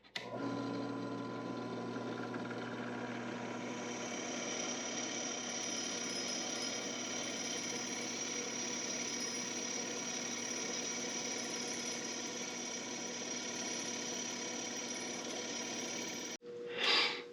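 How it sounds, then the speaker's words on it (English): Continuous high whine and grinding of a drill boring an 8 mm hole in a metal tool post for a mini lathe, steady and close for about sixteen seconds, then cutting off abruptly. "we're gonna drill this one at 8 mm"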